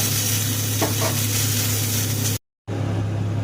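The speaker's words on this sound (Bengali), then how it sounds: "কড়াতে তেল দিয়ে দিয়েছিলাম আর তাতে বাঁধাকপিগুলো তুলে দিয়েছি। বাঁধাকপিগুলোকে একটু হালকা করে ভেজে নেব।" Cabbage fries in oil in a kadai with a steady, close sizzling hiss and a few soft stirring scrapes, broken briefly by a moment of silence before the frying continues.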